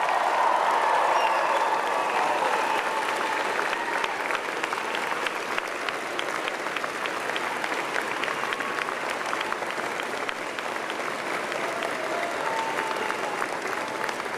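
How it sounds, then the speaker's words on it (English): A convocation audience of friends and family applauding the graduating class, sustained dense clapping from a large crowd that continues evenly for the whole stretch, with no pauses. "I ask your friends and family to join me in applauding the amazing graduating class of June"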